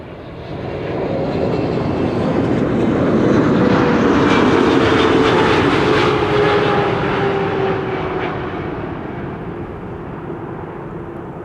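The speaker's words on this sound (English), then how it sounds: "next up Qatar flight 8205 arriving from Doha" Qatar Airways jet arriving from Doha on a frosty, sunny day at Amsterdam Schiphol Airport: a loud engine roar swells in, peaks mid-clip with a descending whine, then fades slowly as it passes, no talking.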